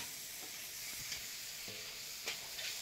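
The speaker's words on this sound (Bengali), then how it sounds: "কচু শাকটাকে এবার শুধু কড়াইতে নাড়াচাড়া করবে" Taro leaves frying in ghee in a wok are stirred, a faint steady sizzle with a few soft scraping strokes of the spatula spaced irregularly, quiet and close with no talk.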